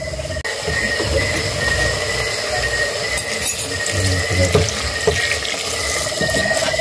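Broth poured into a pot for Filipino chicken tinola, a continuous loud splashing pour like water running from a tap, steady for several seconds with slight bumps and rattles.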